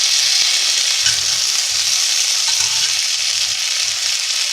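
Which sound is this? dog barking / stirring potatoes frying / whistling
stirring potatoes frying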